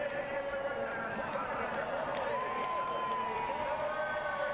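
Large crowd at Kansas Speedway cheering after a 2009 NASCAR race win, a broad, steady roar heard from a distance, mixed with faint tonal sounds and continuous background noise.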